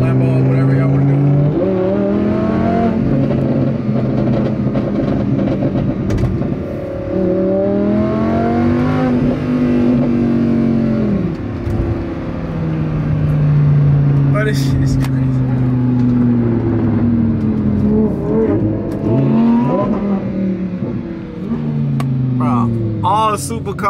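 A Lamborghini Huracán supercar engine drones loudly and steadily, rising and falling in pitch as it revs and accelerates. Someone talks over it throughout, and traffic surrounds it.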